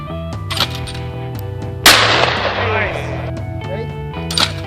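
A shotgun fired once in an outdoor clay-shooting session at Thanksgiving 2014: a single sudden, loud blast with a rumbling decay, over a steady tonal background.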